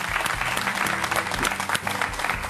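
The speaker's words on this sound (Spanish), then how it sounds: "Un aplauso para nuestros profes." An audience applauds the teachers of an Extremaduran language class, a dense burst of clapping over a low steady hum that continues throughout, with no one speaking.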